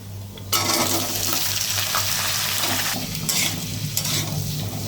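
Potato pieces tipped into hot oil with whole cumin seeds burst into a loud, steady sizzle that jumps up abruptly and holds strong, with brief stirring scrapes of a spatula in the pan.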